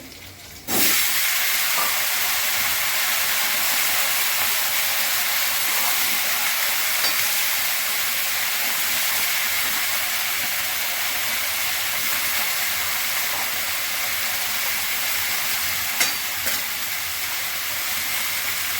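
Vegetables with Malabar spinach fry in a pan alongside a fried fish head, a loud, steady, hissing sizzle that starts abruptly and holds unbroken for the rest of the clip, with a couple of faint clinks near the end.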